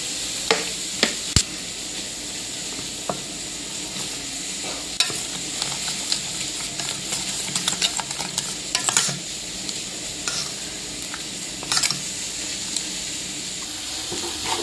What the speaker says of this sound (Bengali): এবার একটু জল দিয়ে গুঁড়ে নেব মশলাটা